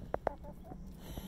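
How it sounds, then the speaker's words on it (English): A couple of chickens in a deep litter coop give a few short, soft clucks, two sharper ones first followed by quieter murmuring notes, close by with no talking. "here are a couple of our chickens"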